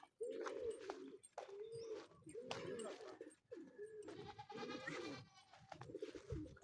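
Repeated low pigeon coos close by during racing pigeon training, a rhythmic series of throaty calls with a few brief gaps.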